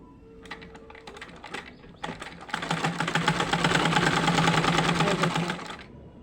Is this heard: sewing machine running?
yes